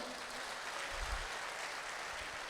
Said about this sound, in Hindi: उतनी ही तालियां बज रही हैं जबरदस्त रूप में